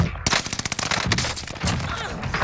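Rapid Cooper carbine gunfire in a first-person shooter video game, dense close bursts of sharp cracks in quick succession, then a looser stretch of fainter shots under background game noise.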